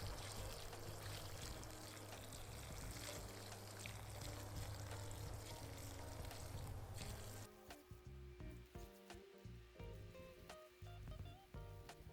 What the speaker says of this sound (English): We're just going to pour